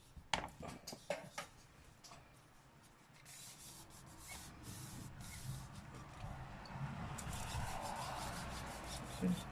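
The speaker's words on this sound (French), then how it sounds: "Là, je frotte déjà ma règle un peu." A ruler being rubbed produces a soft, steady scraping friction that builds into a continuous close rub after a few sharp taps at the start.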